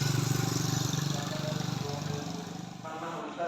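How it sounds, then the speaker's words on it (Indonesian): Bus on a road at Simpang Tiga, Tanjung Pura, Aceh: a rumbling, pulsing engine loud at first, then fading as it moves off, with the sound dropping away near the end. "Nah, ini ada bus teman-teman."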